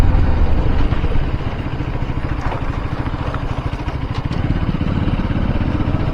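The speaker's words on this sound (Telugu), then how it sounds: "బ్రిడ్జ్ కింద రీసౌండ్ మస్తు వస్తుంది" A motorcycle engine rumbles beneath a bridge beside a railway during an off-road ride. It makes a loud, continuous low throb with a rapid pulsing beat and reverberant echo, steady throughout with no talk.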